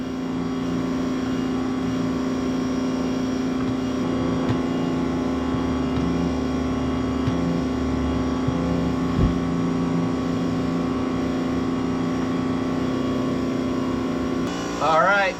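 A pressure washer runs steadily while its hose is pushed down a clogged kitchen sink drain, a loud, constant motor drone with a strong hum that barely changes for about fifteen seconds before a brief shift at the end.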